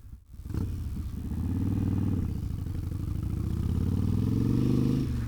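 A Harley Sportster motorcycle climbs a hill, its engine note rising and holding in a steady, loud drone as the rider carves corners, then easing off at the end.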